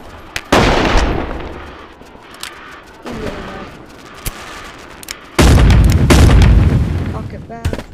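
Gunshots from a first-person shooter game ring out as loud booming blasts, a sharp burst near the start and another heavy sustained volley later, with players chatting over the game audio.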